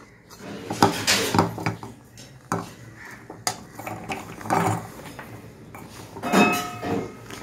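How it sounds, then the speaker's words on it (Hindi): Garlic cloves dropped into a steel mixer jar in a home kitchen give scattered light clinks and taps, several separate hits spread across a few seconds at close range against a quiet background. "तो अब हम अपने लहसुन को मिक्सर के जार में ऐसे डाल देंगे"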